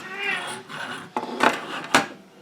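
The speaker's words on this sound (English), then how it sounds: "That's my cat crying." A pet cat cries with a drawn-out, wavering meow near the start, followed by a few short, sharp knocks and rustles at moderate distance; no one speaks.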